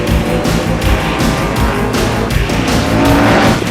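NASCAR race cars roaring around the track in close racing for position, a loud, continuous engine drone with repeated swelling passes and brief tire noise.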